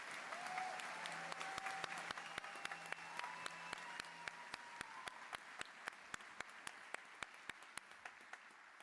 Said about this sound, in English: let's have another round of applause for these people